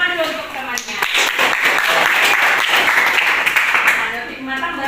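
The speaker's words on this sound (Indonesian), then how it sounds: "Tepuk tangan dulu untuk temannya." A classroom of students claps for a classmate in a physics lesson on mechanical waves, a dense burst of applause with voices chattering over it throughout.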